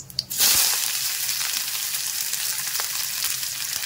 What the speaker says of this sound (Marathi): जिरे टाकून झाले की कांदा मी कापलेला होता तो एक टाकून देते याच्यात